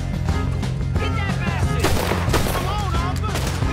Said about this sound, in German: Ich schieß doch gerade erst.